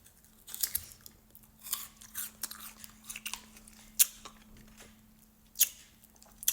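Someone bites into frozen orange tanghulu candy with a crisp sugar shell, giving close, sharp crunches and cracks followed by wet chewing in a quiet room.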